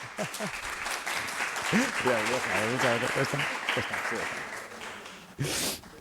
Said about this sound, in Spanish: Vamos a darles un aplauso, por favor